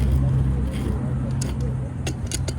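Loud, steady road traffic rumbles close by at a roadside water main job on a hot morning, with a low engine drone and a few brief sharper clicks and knocks on top.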